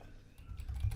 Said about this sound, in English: So I'm using the bracket keys to adjust the brush size.